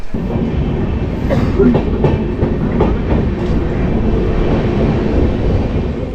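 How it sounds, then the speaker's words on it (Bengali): Wheels of the Howrah–Patna Janshatabdi Express clatter rhythmically over rail joints beneath a steady rumbling roar of the moving carriage, loud and close throughout, near Asansol and Chittaranjan. "রেল ট্র্যাকে ট্রেনের চাকার হালকা ঘটাং ঘটাং শব্দ"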